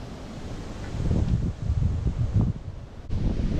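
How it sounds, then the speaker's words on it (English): Wind gusts through grass on farmland, a soft, rustling rush that swells and fades close to the microphone, with no talking. "Beautiful grass blowing in the wind."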